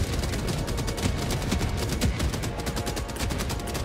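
Autocannon fire in the video game Helldivers 2, a dense run of rapid, punchy shots and blasts that keeps up steadily and loudly across the whole stretch, with no talking over it.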